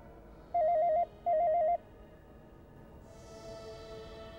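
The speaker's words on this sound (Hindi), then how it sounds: "किसका फोन आ गया अब?" Telephone ringing twice in short warbling electronic bursts, fairly close in a quiet room, followed by a faint higher tone and low background hum.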